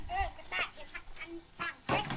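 Ducks quack in a few short nasal calls near a village duck pen in rural Thailand, interleaved with people talking close by.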